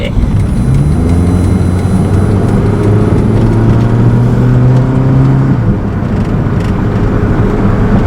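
A 2009 Honda City V sedan engine revs steadily as the accelerator is pressed, its pitch climbing for several seconds before dropping back to idle, loud and close with someone talking over it.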